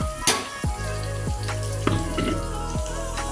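An onion-coconut masala paste with red chilli masala fries in a pot on a gas stove, giving a steady moderate sizzle broken by periodic soft bursts of bubbling, with no voices.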